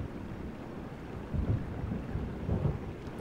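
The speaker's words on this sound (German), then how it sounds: "Es kommt auch noch ein Gewitter." Thunderstorm with rain in the Nils Holgersson video game, a steady low rumbling wash with two heavier rolls of thunder swelling up midway and near the end, no voices.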